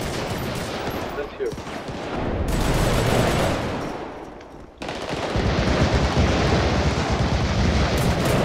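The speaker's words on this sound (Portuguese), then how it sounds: "É tiro, troca de tiro." Bursts of gunfire exchanged during a police operation, loud rattling shots and blasts spread across the stretch with a dense, noisy background and brief dips between volleys.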